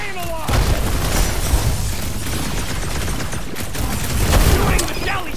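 Dense, continuous gunfire and booming blasts from the Guardians of the Galaxy video game, with rapid bursts layered over one another at a loud, sustained level, and voices likely mixed in.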